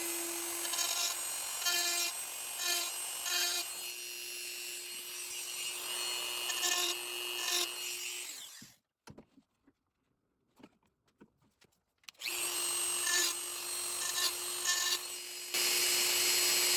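Forstner bit rim being honed with a small sharpening stone, repeated close rubbing strokes in short bursts, a steady background tone underneath and a near-silent pause midway before the rubbing resumes.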